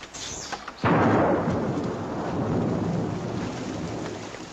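Heavy rain pours steadily on a wartime outdoor scene after a few faint knocks, with a loud thunder crack bursting in about a second in and rolling into a sustained wash of downpour; no voices.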